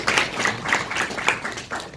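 An audience at an education forum claps to welcome a teacher presenting, a thin scattered patter of hands lasting a couple of seconds at moderate distance.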